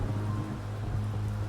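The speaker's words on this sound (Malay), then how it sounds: "Hujan dah tak tahu mana dah ni." Rain falls in the horror video game The Beast Inside as a steady, close hiss of drops on surfaces, joined by a low rumbling hum underneath and no talk.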